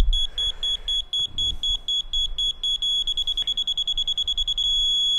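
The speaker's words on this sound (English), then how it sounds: "So you can hear the beep." A laser level receiver's high electronic beeper sounds in repeated short pulses, speeding up into a rapid stream of beeps before settling into a continuous tone.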